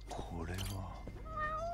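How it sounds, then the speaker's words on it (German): A cat meows in the video game Judgment, a short series of plaintive game-audio mews heard close and clear over a low background hum. "Schau mal, eine Katze."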